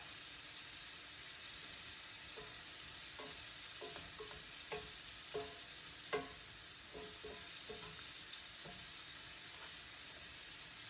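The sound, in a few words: shrimp frying in hot grease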